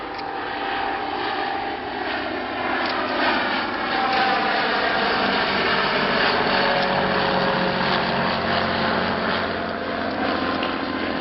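LVG vintage World War I era biplane flying at Old Warden in England, its engine giving a steady, continuous drone that holds loud and even throughout, with no talk over it.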